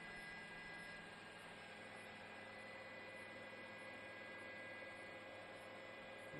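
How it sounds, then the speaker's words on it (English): Helicopters return over a Malibu wildfire, their engine and rotor noise a steady, far-off broadband drone that holds at an even level throughout with no distinct blade beats. "The helicopters are all coming back in now."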